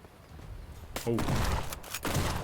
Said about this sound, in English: The shotgun feels a bit overpowered.